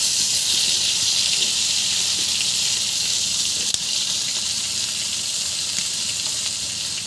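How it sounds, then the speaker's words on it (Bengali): Rohu fish sizzling steadily in hot oil in a wok, a loud, even hiss of frying with no break, close up and without voices. "মাছগুলো মিষ্টি ভাজা হয়েছে"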